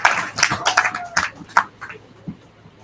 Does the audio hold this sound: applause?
yes